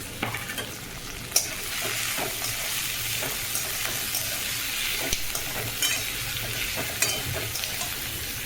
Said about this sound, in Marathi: कांदा टाकून घेतला तर कांदा चांगला परतून घ्यायचा ना लसूण आणि कोथिंबीर कांद्याबरोबरच टाकली परतायला लगेच